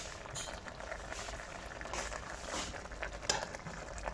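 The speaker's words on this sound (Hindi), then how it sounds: "मैं आपको दिखा भी दूँ शीरा इसका कैसे पक रहा है।" Sugar syrup for a sweet-and-sour raw mango chutney simmers in a pan, a soft continuous bubbling hiss at low level, with one faint clink of a spoon near the end.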